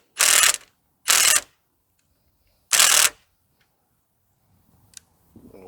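A socket wrench ratchets on 12mm bolts on a car's front stress bar in three loud, close bursts of rapid clicking separated by silence, followed by a few faint rustles.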